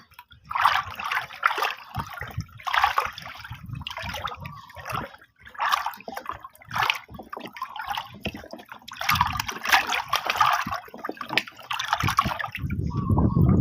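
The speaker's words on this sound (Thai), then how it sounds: "เราก็คนส่วนผสมให้เข้ากันนะคะ" A wet mixture for straw mushroom cultivation is stirred by hand, giving irregular sloshing, splashing and dripping sounds in uneven bursts, close and fairly loud, with brief pauses between strokes.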